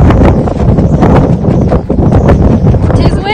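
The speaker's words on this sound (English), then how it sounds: "Tis windy." Strong wind buffets a microphone outdoors during a dust storm, loud gusty roaring and rumbling bursts that surge and drop throughout.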